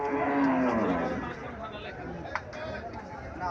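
A cow moos at a busy cattle market in Chandimura, Comilla, a deep drawn-out low over crowd chatter and background noise, with a brief sharp knock partway through.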